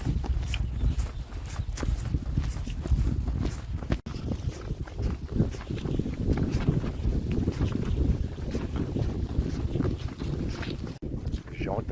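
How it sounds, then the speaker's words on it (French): Steady wind gusts buffet the microphone outdoors along a countryside walking trail, a broad continuous rumble and rush filling the clip with short dips and no clear voices. "Le vent s'est levé."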